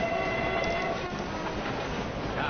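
A train sound from a pinball video game, with a steady rumble of rolling wheels and a faint tonal horn-like whistle fading in the first second, fairly loud and continuous, with no talking.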